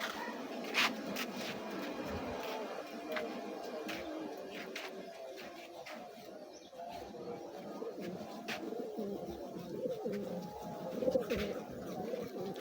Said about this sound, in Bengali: আর আমার সবগুলো কবুতর এখানে বসে রয়েছে